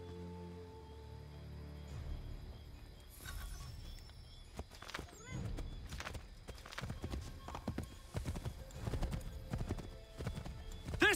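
A horse's hooves clip-clop in a steady riding rhythm in Assassin's Creed III, close and clear, with a brief whinny partway through and music and ambient sounds faintly behind.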